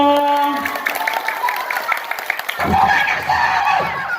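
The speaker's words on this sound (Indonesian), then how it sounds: "Tepuk tangan buat semuanya." Kindergarten children and an audience at an Isra Mi'raj school celebration clap together in a loud, lively burst, breaking off briefly before a second wave of applause, with some voices mixed in.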